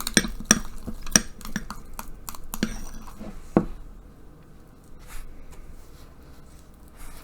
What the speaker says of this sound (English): give our blue icing a stir